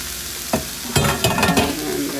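Rice and vegetables frying in a hot pan, stirred a few times, with sizzling bursts and scraping strokes growing busier toward the middle of the short stretch, close and clear with no talking.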